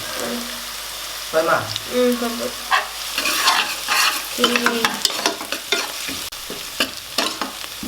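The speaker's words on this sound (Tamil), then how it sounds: "வெங்காயத்தை போட்டு நல்லா வதக்கும்" Onions sauté in a pan with garlic paste and curry leaves for a vegetable salna, sizzling steadily while a spoon scrapes and stirs in irregular strokes close by.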